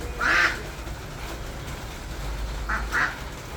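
A duck quacks nearby at a monastery, first one call, then a quick pair of quacks a couple of seconds later, over quiet outdoor background.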